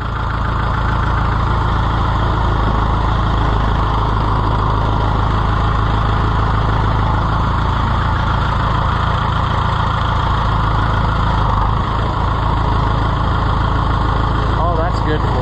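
An Oliver 500 tractor engine runs at a steady idle, a loud, continuous low mechanical rumble close by throughout, with people talking over it at times.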